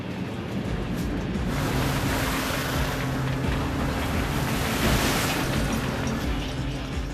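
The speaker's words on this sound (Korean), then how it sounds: "하지만 무섭게 몰아치는 파도" Rough winter sea roars steadily with waves crashing and wind rushing, heard aboard a 78-ton crab fishing boat, a constant loud wash of noise with a faint engine hum beneath.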